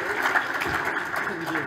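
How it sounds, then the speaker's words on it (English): An audience applauds at an awards ceremony, a steady wash of clapping with some voices and sound mixed in, heard from within the room. "And so a big round of applause for Olaf."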